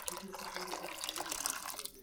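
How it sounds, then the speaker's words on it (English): Cooking juice is poured into an Instant Pot holding bear meat for pulled sandwiches, a steady close splashing and trickling of liquid that runs through the whole stretch. "let's pour this juice into here."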